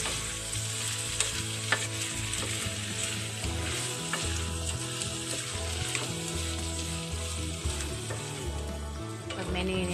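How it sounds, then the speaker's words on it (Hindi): Mixed vegetables with peas fry and get stirred in a pan, a steady loud sizzle running throughout with soft scraping from the stirring, no talk. "अब मैंने इन्हें अच्छे से एक बार मिक्स कर दिया है"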